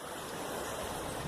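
Creek water rushes in a steady, loud, broadband wash, close by and continuous, with no voices over it.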